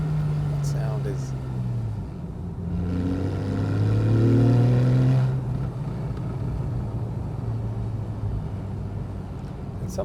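Porsche 911 Carrera S of the 991.1 generation idles with a low rumble, then its flat-six revs up in a rising surge and settles back to a steady burble, with someone talking over it.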